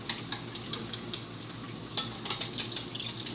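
Broccoli sautés in oil on a flat grill, a soft continuous sizzle punctuated by light scraping and stirring clicks of a utensil, close and quiet with no talk.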